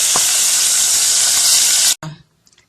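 Loud, broad hissing sizzle of a pepper sauce for masele ngbede cooking in a pot, steady for about two seconds before cutting off abruptly, followed by a brief clatter.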